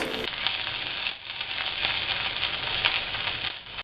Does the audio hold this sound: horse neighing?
no